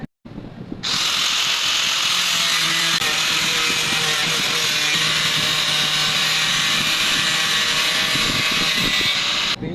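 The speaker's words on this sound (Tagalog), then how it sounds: "Maganda po talaga po putol ng grinder mga bossing." An angle grinder without its safety guard slices through a thin laminate (Formica) sheet, a loud, close, steady high-pitched whine with a harsh cutting rasp that holds for nearly ten seconds after a brief start-up.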